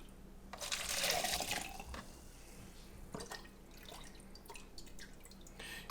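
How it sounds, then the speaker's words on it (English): Lemonade moonshine being ladled from a large pot into jars: a loud burst of pouring, splashing liquid near the start, then softer drips and trickles with small clinks, no voices. "But this time I'm going to use a ladle because the pot's a little big and I don't want to spill it all over the place."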